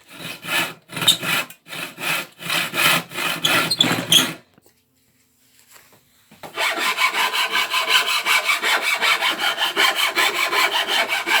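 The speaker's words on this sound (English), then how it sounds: "the first thing that I'm going to have to do is trim off the lips and ridges from it when it was a piece of floorboard" Old floorboard wood having its lips and ridges trimmed off by hand: rapid rhythmic rasping strokes, a brief pause, then a long run of fast, even scraping strokes, close and loud.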